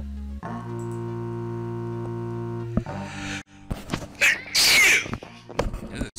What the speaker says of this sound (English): Had a sneeze come out of nowhere